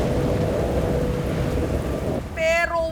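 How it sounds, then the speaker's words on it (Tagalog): Heavy rain pours down steadily, a loud dense wash of noise during a teacher's boat commute in Sorsogon, then cuts off abruptly near the end as a voice briefly speaks. "bumuhos ang malakas na ulan"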